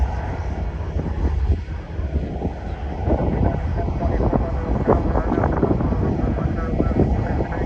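A United airliner at Fort Lauderdale airport roars steadily at night during takeoff, a broad engine rumble heard from a distance, with faint voices nearby.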